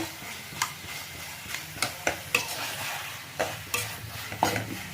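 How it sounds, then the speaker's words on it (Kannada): Tomato frying in a pan while being stirred, a soft steady sizzle punctuated by sharp, irregular clacks of a spoon against the pan. "ಈ ಟೊಮೆಟೊ ಇದು ಚೆಂದಾಗಿ ಫ್ರೈ ಆಗಿದೆ."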